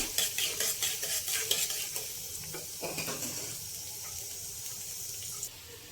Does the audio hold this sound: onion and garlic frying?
yes